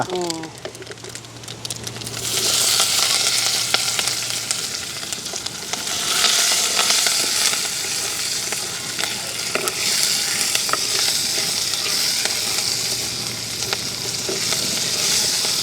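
Mustard seeds splutter in hot oil in a village kitchen, then onions, curry leaves and green chillies go in, giving a dense close sizzle with sharp pops and crackles. Speech runs over it.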